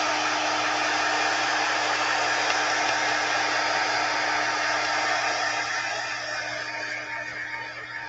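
A clothes iron blasting a shot of heat and steam while pressing quilt pieces: a loud, close, steady rushing hiss with a faint underlying hum, sustained for several seconds and easing off slightly at the end.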